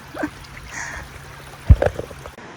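Water from a stream runs and trickles steadily on the Multnomah Falls trail in Oregon. The wash is soft and continuous, with a brief splashy burst near the end.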